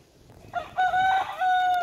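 A rooster crows close by, one long rising and sustained call, loud and clear against a quiet background.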